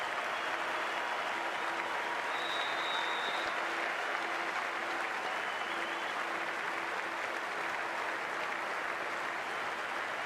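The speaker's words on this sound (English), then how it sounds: "We're about to get underway and already the crowd is up and about." A cricket crowd at Pallekele Stadium during an India versus USA T20 World Cup match, cheering and clapping as play is about to begin: a steady, dense roar of applause and crowd noise that holds at an even level throughout, with no clear talk over it.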